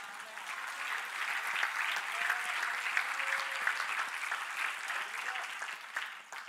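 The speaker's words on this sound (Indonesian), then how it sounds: "Ketika baca ayat ini, suara tepuk tangan memang itu yang baik." A church congregation applauds steadily throughout, a dense patter of many hands clapping at moderate distance, with a little speech underneath.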